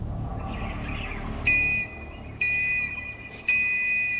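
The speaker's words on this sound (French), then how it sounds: "C'est le train. pourquoi il siffle?" Three shrill, steady train whistle blasts at one pitch, each lasting under a second, separated by short pauses over faint background rumble.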